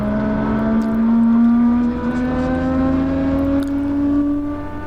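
A Rotorsport Cavalon gyrocopter on its takeoff run, its engine droning loud and close with a pitch that climbs steadily while the rotor noise carries on beneath it, with no voices.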